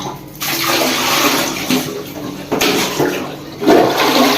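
Toilet flushing close up, a loud continuous rush of water swirling and draining, with surges in the middle and near the end, no talk.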